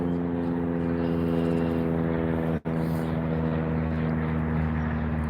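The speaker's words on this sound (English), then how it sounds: "World War II aircraft" A World War II propeller aircraft drones overhead, a steady, loud engine hum that holds throughout apart from one very brief dropout.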